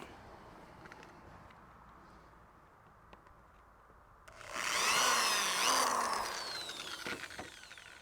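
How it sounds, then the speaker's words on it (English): Quiet background gives way to a power drill whirring into wood for a few seconds while building a stone crab trap, loud and close, then tapering off. "we're going to go ahead and drill it the same as we did the other one"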